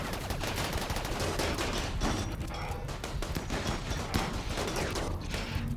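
Rapid automatic turret gunfire from the video game RimWorld, a dense, continuous stream of shots and thuds that stays loud and steady throughout without pause.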